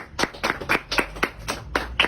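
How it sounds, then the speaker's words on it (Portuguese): A church congregation claps for Jesus in a steady, even rhythm of about four claps per second, crisp and close, with no talking over it. "Pode bater uma salva de palmas para Jesus."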